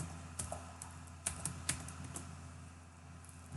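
Someone types a password on a computer keyboard: a short run of light, irregular key clicks, close but quiet over a low background hum, with no voices.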